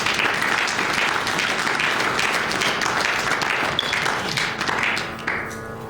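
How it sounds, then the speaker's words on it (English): A spiritual talk audience breaks into sustained applause, a dense, even roar of many hands clapping that fades slightly toward the end. "Let's clap for him."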